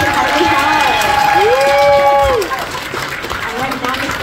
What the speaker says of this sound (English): let's give a big round of applause for all of our 2024 graduates